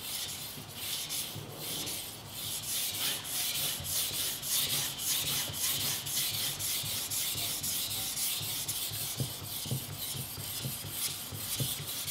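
Knife edge polished on a Shapton Glass whetstone, with continuous rhythmic rasping strokes of steel on stone, close and steady throughout.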